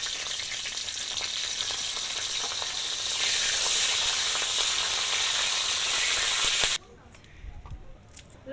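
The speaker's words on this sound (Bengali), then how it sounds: "এবার আমি ওই তেলে কাঁচা লঙ্কাটা ভেজে নেব।" Green chillies sizzle loudly in hot oil for several seconds, a dense steady crackle that swells midway, then cuts off abruptly and leaves only faint kitchen noise.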